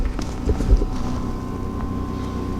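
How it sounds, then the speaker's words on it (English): Gusty outdoor wind in Oklahoma buffets the microphone with a low rumble and a few thumps, steady and close throughout. "Oklahoma's not the greatest outdoor welding state, that's for sure. It's always windy here."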